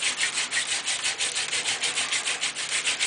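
Paulownia wood bow drill parts rubbed hard against each other to mate them, a steady rhythmic scraping friction with regular strokes about every quarter second, close and fairly loud with no talk.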